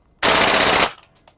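An EMG Noveske Double Eagle gas blowback airsoft rifle fires one loud, rapid full-auto burst of about half a second, followed by short mechanical clatter.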